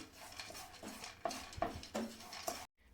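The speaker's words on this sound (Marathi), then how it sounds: "काजू आणि बदाम हे आपल्याला छान मंद आचेवरती छान भाजून घ्यायचं आहे तुपामध्ये" Cashews and almonds roasting in ghee over low heat, a spoon repeatedly scraping and clinking against the pan in an uneven rhythm, close and moderately loud, with no talking.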